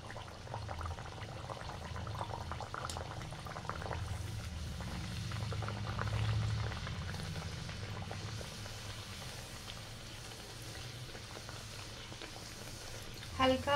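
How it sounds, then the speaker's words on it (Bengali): Radha Ballavi dough slid into hot oil and frying, a steady bubbling sizzle that swells gently in the middle, close and continuous, with a faint clatter at the very end. "তেল গরম হয়ে গেছে, আমি রাধা বল্লভীটা ছেড়ে দেবো।"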